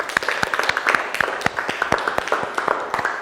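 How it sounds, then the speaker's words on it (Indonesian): Students in a classroom clap their hands together in a steady, dense burst of crisp, close claps that runs throughout, with faint voices mixed in. "Tepuk tangan dulu"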